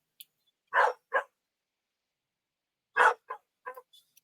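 Dog barking outdoors at night while guarding the house, two short pairs of sharp barks separated by a pause, moderately close and alone in quiet surroundings.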